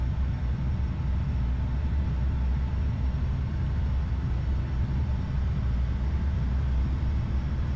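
An aircraft accelerating down the runway on its takeoff roll in the FSX flight simulator game produces a loud, steady low engine rumble that holds evenly throughout, with no talking.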